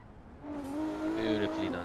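Race car working through a hairpin at a Race of Champions event, the driver yanking the handbrake: engine drone rises under commentary with a brief tyre squeal as the car slides.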